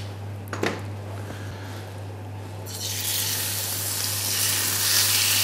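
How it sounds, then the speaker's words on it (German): Veal cubes drop into a hot pan of olive oil with a clatter, then a loud steady sizzle of frying builds and continues, with a low hum underneath. "Und braten"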